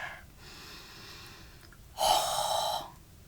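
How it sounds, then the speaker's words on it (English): Someone sniffs a bar of soap up close, a short airy inhale followed by a longer, louder sniff of about a second, with no talk. "Okay, one more sniff."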